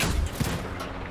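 Tank cannon fire in the WWII shooter game Hell Let Loose, a heavy low boom with a second thud shortly after, dense rumbling battlefield noise throughout the short burst.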